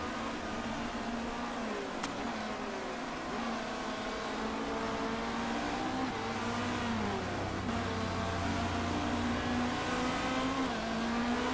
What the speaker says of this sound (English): You can see cars just going by.